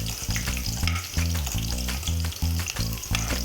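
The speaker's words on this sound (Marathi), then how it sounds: "तर मिरची छान आपल्याला तळून घ्यायची आहे मस्त." Green chillies frying in hot oil for a fasting-day sabudana khichdi, giving a steady, loud, close sizzle with bursts of crackle throughout, no voices.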